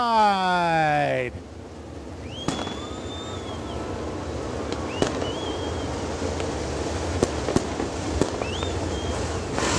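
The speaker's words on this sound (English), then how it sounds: "Fireworks going off in the air." At Rome Speedway, after a brief harmonic whine, whistling firework rockets rise and scattered sharp bangs crack overhead against a rumbling crowd-like background.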